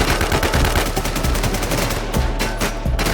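Gunfire in the video game Infestation SEA, a dense, continuous stream of rapid loud shots like automatic weapons, crackling without pause through the whole clip.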